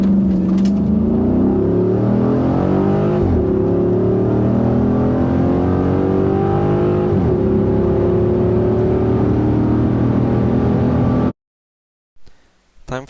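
Chrysler 300 SRT8 with a 6.4-liter Hemi V8 revs loudly up close, its deep harmonic exhaust note climbing and easing through several pulls before cutting off abruptly near the end.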